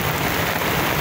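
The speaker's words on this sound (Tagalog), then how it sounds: "Ayan na po, umulan na. Basa na po tayo lahat." Steady rain falls over Manila Bay in a dense, even hiss of drops spattering on surfaces, close and fairly loud, continuing without a break and without anyone speaking.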